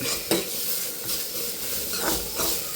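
Sizzling in a pan for a mushroom theeyal, with steady frying hiss broken by stirring scrapes and a couple of utensil knocks against the pan, close up and without speech.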